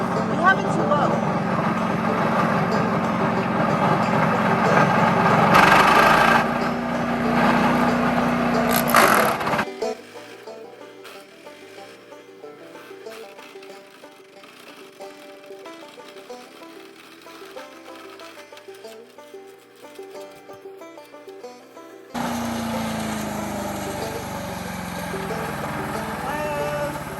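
DR Premier 300 wood chipper and leaf shredder runs loud and steady, drops to a lower idle for a long stretch, then revs back up. People talk over the engine.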